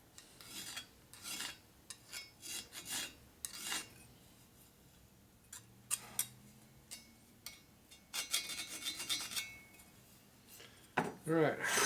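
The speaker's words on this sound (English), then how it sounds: "I still want to grind out the burr." Metal rasping and scraping in short, irregular bursts as a burr is worked out of a Harley Shovelhead motorcycle engine case, up close with a few brief pauses and a louder stretch near the end.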